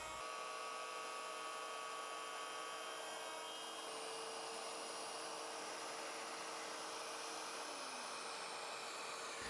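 A wood router whines steadily and loudly throughout while trimming a bow tie wood inlay flush using a jig, with a dense broadband buzz and a slight pitch shift near the end.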